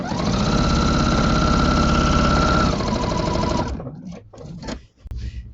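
A sewing machine fitted with a walking foot stitches through a quilt in a steady, fast rhythmic run, loud and close, before stopping abruptly and leaving a few faint handling noises.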